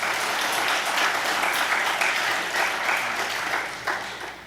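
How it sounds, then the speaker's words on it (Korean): Sustained applause from a church congregation at a Wednesday service honoring a missionary couple to Peru, dense steady clapping filling the room for several seconds without talk. "큰 박수 보내주시기 바랍니다"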